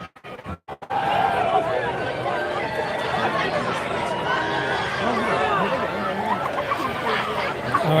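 A high school student section at a varsity football game, Nokomis at Belfast, roars in a loud, sustained mass of cheering and chatter that swells up after a brief quieter moment and holds steady throughout.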